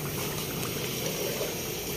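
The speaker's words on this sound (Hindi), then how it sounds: "ये कौरमा तैयार हो रहा है" Korma simmering and bubbling in a large pot at a roadside cook stall in Rawalpindi, a steady dense boiling hiss throughout with no voices.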